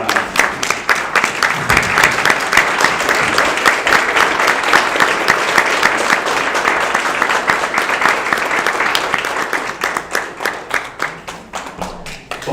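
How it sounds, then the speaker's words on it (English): A large audience at a graduation ceremony applauds, with sustained loud clapping from many hands that thins out and fades toward the end. "Let's stand up and give them a hand clap."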